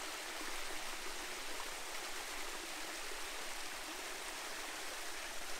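An Australian waterfall and stream rush with a steady, dense hiss of flowing water, close and constant throughout with no voices or other sounds.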